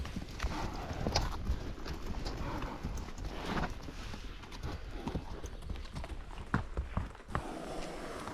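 Hooves of a wild mustang being ridden on an overnight camping trip, a steady clip-clop walking rhythm, close and continuous, with the odd snort and rustle alongside.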